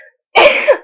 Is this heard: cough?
yes